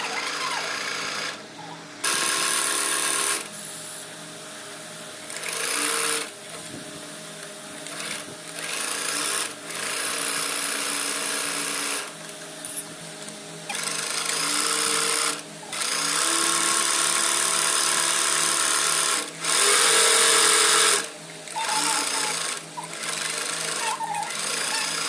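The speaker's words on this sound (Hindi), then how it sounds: "अब हम इसकी पूरी स्टिचिंग इसी तरीके से करेंगे।" A sewing machine stitches a lehenga made from a saree in repeated bursts, its steady whirring run stopping and restarting every few seconds, loud and close with brief quiet gaps between runs.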